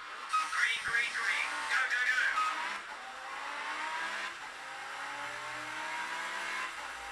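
Car engine revving and tire squeal come from the racing video game Project Cars, played at 720p on low settings on a Teclast F6 Pro Core M3 laptop, quiet and compressed throughout.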